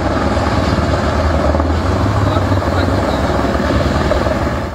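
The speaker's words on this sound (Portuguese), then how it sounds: "A ação contou com o apoio do helicóptero Águia." A police helicopter's steady rotor thrum and engine drone, loud and close, holding constant for several seconds with no pause.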